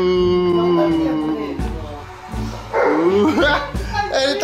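Dogs bark and yip close by in quick, high-pitched bursts, with a few whiny tones, at a lively Halloween party. People chatter over and between the barks.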